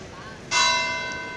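A single church bell in a bell tower in Sintra strikes once, ringing out clearly with a bright, sustained tone that slowly decays over a faint background.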